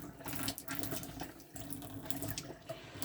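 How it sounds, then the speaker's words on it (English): Water runs steadily from the tap of a 2019 Bailey Unicorn Merida caravan, a continuous splashing gush into the sink with no talk over it. "As you'll be able to see in a second when I turn the tap on, the water system is already full"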